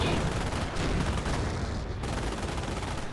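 Machine gun fire in a WWII strategy game battle: a continuous rattle of bursts under a dense, steady wash of combat noise, fairly loud throughout with no pauses.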